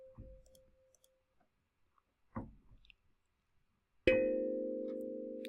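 A tuned bell sample from the Klang percussion rack device in Reason rings out near the end with a sharp attack and a long sustained, slowly fading tone, after a couple of soft clicky taps.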